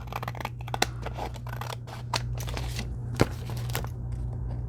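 Repeated snipping of scissors trimming paper envelopes, close by, in quick irregular bursts over a low steady hum.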